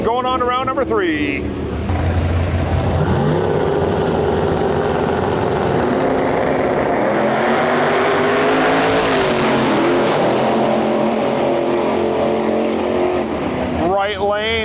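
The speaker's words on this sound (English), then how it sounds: "Right lane, the nitrous Mustang going on to round number 3." A nitrous-equipped Ford Mustang drag racing, its engine roaring loud and close for most of the run with rising revving sweeps, under a male announcer's commentary at the start.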